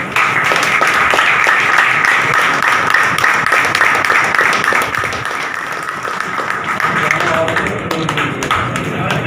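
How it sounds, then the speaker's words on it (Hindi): Audience applause welcoming newly appointed zone chairman and deputy chairman at a felicitation event, a dense, steady wash of many hands clapping that carries on throughout at high loudness. "आप जोरदार तालियों से स्वागत करें।"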